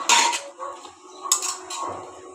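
A metal lid clatters onto a cooking pot of sweet pumpkin curry with shrimp: a close, bright clink followed by a couple of lighter metallic scrapes and taps.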